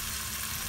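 Garlic drops into a hot pan already holding onion for a mushroom sauce, giving a steady, close, even hiss of sizzling oil with no talk over it.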